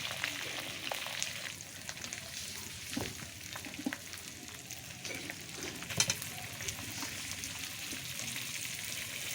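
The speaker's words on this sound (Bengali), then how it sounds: "আর এখানে আমি চিকেনটা সুন্দর করে কষিয়ে নেব" Chicken sizzles steadily while being sautéed with spices in a pan, a constant close frying hiss with occasional stirring scrapes and pops.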